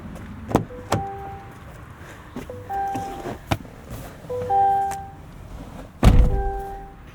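Getting into a GMC Hummer EV SUV brings a few sharp thunks of doors and latches, soft electronic chimes, some handling noise and a final heavier thud as the car door shuts nearby.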